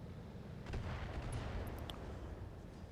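A battle mech in the RogueTech game lets loose a volley of rockets: a faint, muffled burst of launches and impacts rises after a quiet start, then trails off into a low rumble.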